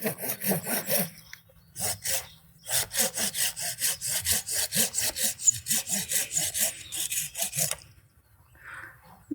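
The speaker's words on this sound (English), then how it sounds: "take your pruning saw and you want to make a nice cut straight through" A pruning saw cuts through old dogwood stems in rapid, rhythmic back-and-forth strokes heard up close, with a brief pause early on before the sawing runs steadily, then stops near the end.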